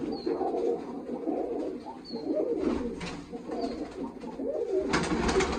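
Pigeons coo softly and repeatedly in a low murmur, with a steady bed of rustling background noise and occasional faint higher chirps.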